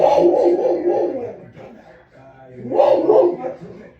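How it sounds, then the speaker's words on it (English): A dog looking out a window barks in two loud bursts a couple of seconds apart, close by, with a muffled quality as if from another room. "he's looking out a window barking at someone"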